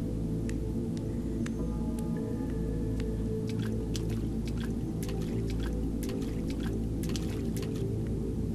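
Water in the video game The Longing gives a steady, dense wash of flowing and dripping sound, with scattered small clicks and plinks over a low continuous rumble, and no one talking.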